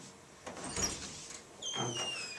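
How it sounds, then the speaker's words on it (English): A door opens as someone comes in, giving a soft scrape and a light creak or squeak midway, with a faint rattle; it is fairly quiet and close, with no talk over it. "John's at the door. Come in, John."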